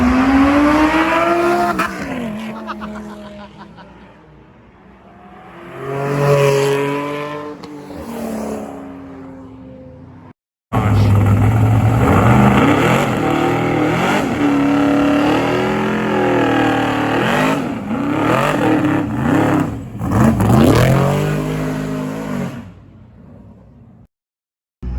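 At a casino car show, cars do burnouts with wheels spinning, their engines revving hard in rising and falling sweeps under screeching tires, loud and close, with one brief break before a second long, roaring burnout.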